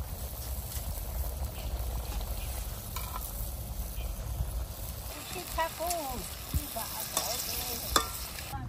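Chela river fish frying with bottle gourd greens in a pan, a steady hiss of sizzling oil under periodic stirring scrapes, while a voice talks and birds chirp faintly in the background.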